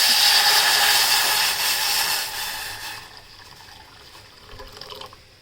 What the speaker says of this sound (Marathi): मी अर्धा तांब्या पाणी टाकले त्याच्यामध्ये